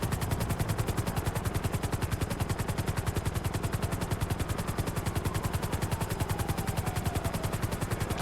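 A helicopter in GTA V FiveM, heard from close by with a loud, rapid, evenly pulsing rotor chop that holds steady throughout.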